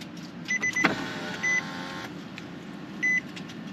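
A fuel pump primes in a VQ-powered car fitted with a Z1 fuel port, giving a short motor-like whir alongside several sharp electronic chime beeps in a quiet garage-like space.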